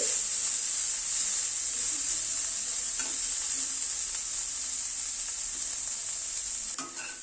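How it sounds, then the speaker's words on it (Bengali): Potato and cauliflower pieces fry in a pan over a medium gas flame, with a steady loud sizzle and hiss, occasional stirring scrapes, and a sharper clatter near the end. "আলু ফুলকপিটাকে একটু ভেজে নেব।"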